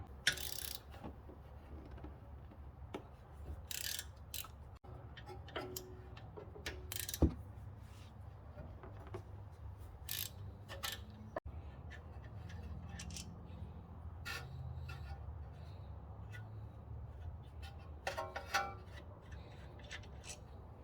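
Two 13mm brake caliper bolts come off a 2010 Audi B8 S4 with a ratchet wrench, giving faint intermittent clicking and ratcheting with metallic clinks and handling noise over about twenty seconds, no talking.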